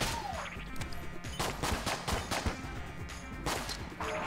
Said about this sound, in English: It's just suppressing fire.